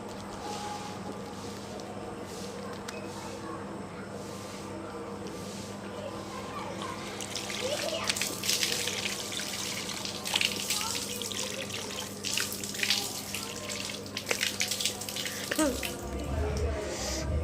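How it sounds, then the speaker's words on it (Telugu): Tap water runs into a sink while someone washes their face at night, with a steady background flow and louder splashing and dripping in the second half. "నేను నైట్ పడుకున్న ముందు ఫేస్ వాష్ చేసేసుకుంటాను"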